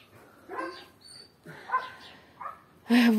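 A few short dog barks and yips at close range, scattered over a quiet background, with a louder bark at the end.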